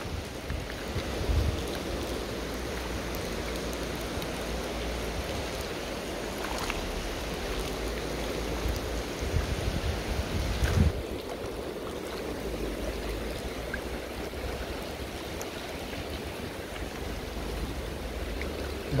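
Rain falling by the Vrbas river near Banja Luka during fly fishing, a steady broad wash of rain and flowing river water, continuous and even with no voices.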